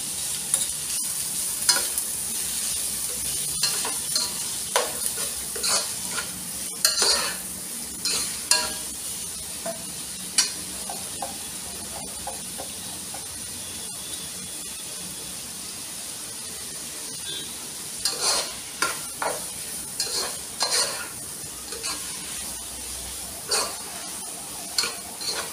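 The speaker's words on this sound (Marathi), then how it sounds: "तर इथे तेल गरम झालेलं आहे आणि याच्यामध्ये मी आता घालते आहे 5 कांदे।" Five large chopped onions fry in hot oil with a steady sizzle, broken by repeated scrapes and clinks of a spoon stirring the pan. No voices.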